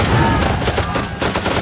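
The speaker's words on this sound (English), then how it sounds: "Bullets cracking, bombs landing, artillery shells exploding, people screaming." Battle sound effect of dense gunfire, a loud continuous fusillade of rapid cracking shots with heavy booming underneath, filling the whole short stretch with no talking.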